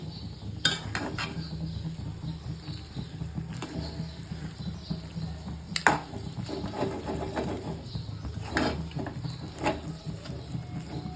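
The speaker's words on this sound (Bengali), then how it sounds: "কচু শাক ভাজে ভাজা প্রায় কমপ্লিট" Taro leaves (kochu shak) frying in a pan, a continuous soft sizzle with scattered spatula scrapes and taps against the pan.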